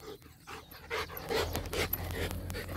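A dog pants quickly and softly during a leash training exercise, with faint whimpery breaths close by in a quiet space.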